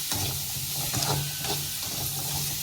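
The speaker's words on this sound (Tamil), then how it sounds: "இதை நல்லா வதக்கிக்கிறோம்." Ingredients for a mushroom thokku paste sauté in a pan with a continuous hissing sizzle, steady and close, with faint stirring scrapes and no voice.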